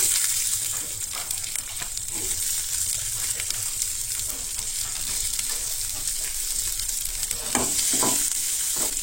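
Sweet corn kernels frying in ghee for veg pulao, a steady hissing sizzle with a few soft stirring scrapes, close and constant, no talking.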